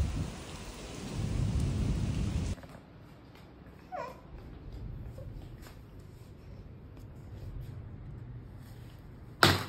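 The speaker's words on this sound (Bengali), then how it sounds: "বৃষ্টি আসছে।" Heavy rain pours with thunder rumbling outdoors, a loud broad roar for the first couple of seconds before dropping to a softer steady patter with a brief sharp crack at the very end.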